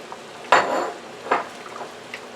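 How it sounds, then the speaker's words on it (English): Three handfuls of spinach going into a pot of chicken and rice soup, heard as a close clatter and rustle followed by a second softer knock against the pot, with no talk. "Now I'm going to add the spinach."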